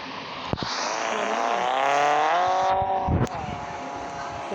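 A car in a mobile parking game revs hard, engine pitch climbing steadily with a tire squeal, then a sharp skid or impact thump near the end before the engine drones on, loud and close.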